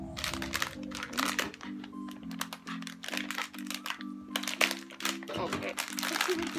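A plastic blind-pack wrapper is crinkled and ripped open up close, with busy crackling and tearing throughout while a child and an adult talk over it.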